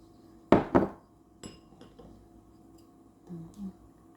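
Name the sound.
stirring a mixture of fresh milk and cornstarch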